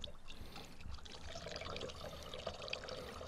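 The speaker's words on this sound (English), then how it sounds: "So we get some distilled water in here." Distilled water being poured into a jug to mix 50/50 radiator coolant for a Chevy truck, a soft, steady trickle heard faintly and close with no talking.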